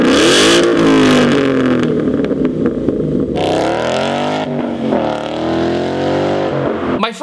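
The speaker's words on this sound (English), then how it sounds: "test out the Roush axle back, see how it sounded" A Ford Mustang GT with a Roush axle-back exhaust roars and revs loudly and continuously, rising and falling in pitch as it accelerates, close by with no talking.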